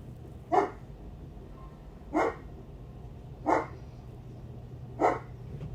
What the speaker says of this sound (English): I am so sorry for Oliver barking